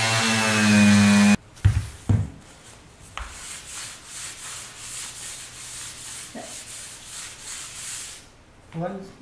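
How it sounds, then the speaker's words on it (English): A Porter-Cable 3-amp oscillating tool cutting with a wood blade: a brief high buzzing whine at first, then quieter rasping, rhythmic cutting strokes with short louder bursts, heard close by. "I switched to a wood blade now, so it cuts."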